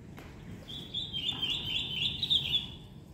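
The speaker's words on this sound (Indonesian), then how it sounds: "Indah banget suaranya burung. Itu burung kutilang ya" A sooty-headed bulbul sings a bright, continuous warbling phrase in a home vegetable garden, faint and somewhat distant over soft background noise.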